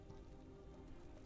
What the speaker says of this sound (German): Ja, wir haben wieder stark Regen hier in Basel.